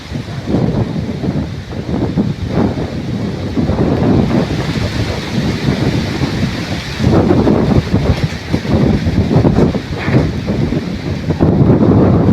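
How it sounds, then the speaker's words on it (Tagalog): Strong wind roars and buffets the microphone nonstop beside rice fields in the Philippine countryside, a loud, rumbling rush with gusts swelling and easing. "lakas ng hangin guys grabe"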